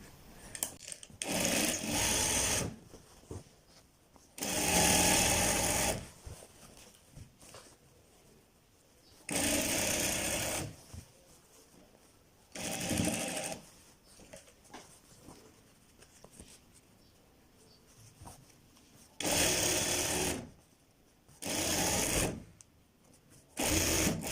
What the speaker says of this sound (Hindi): अब दोस्तों हम आसन की सिलाई लगाते हैं।